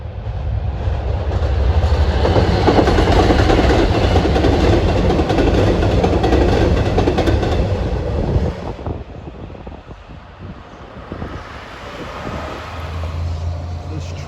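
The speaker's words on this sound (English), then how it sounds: "Here comes train 610 at 12:03." A non-electrified Long Island Rail Road train on the Port Jefferson Branch passes close by with a loud, sustained rumble and rattling wheels, then fades as it moves away.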